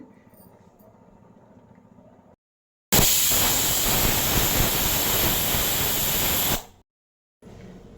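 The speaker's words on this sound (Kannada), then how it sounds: "ಈಗ ಕುಕ್ಕರ್ ಮುಚ್ಚಳ ಮುಚ್ಚಿದ್ದೀನಿ. ಈಗ 3 ವಿಷಲ್ ಕೂಗಿಸ್ಕೊಳ್ಳೋಣ." After a quiet stretch, a loud, continuous hiss of steam bursts from a pressure cooker whistle and holds steady for several seconds before stopping abruptly.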